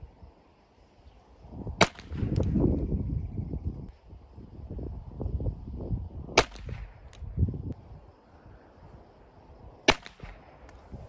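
Three sharp, well-spaced gunshots from a GSG 1911 .22 LR pistol firing CCI Mini-Mag ammunition at an outdoor range, each a crisp crack over light wind and background rustle.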